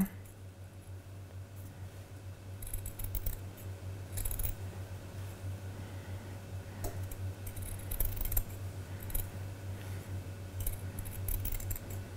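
Scissors trim a seam allowance on a dress in a series of quiet, close snips scattered over a faint steady hum, with no talking.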